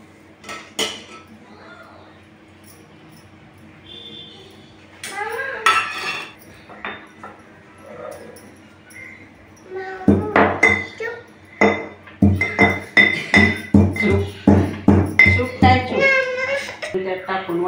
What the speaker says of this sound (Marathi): हे खलबत्त्यात थोडं मोठाड वाटायचं,